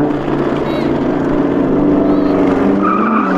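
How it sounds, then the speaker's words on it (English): A loud car engine roars and rises as an Audi R8 or Porsche Cayenne GT launches hard from a standstill in a drag race, with tire noise and a faint voice underneath. "I just want to launch this car again because it's so much fun."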